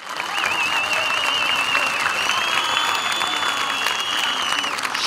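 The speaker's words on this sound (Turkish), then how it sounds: "yürekten bir alkış" Applause from a large rally crowd in Gaziosmanpaşa honouring health workers, loud and sustained throughout with whistles and cheers mixed in.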